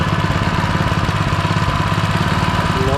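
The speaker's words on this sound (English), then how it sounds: "now that it's warmed up, now it's actually idling." A small engine with a fixed rough idle, now warmed up and ticking over at its lowest throttle setting, a close, steady, even putter that runs on without a break.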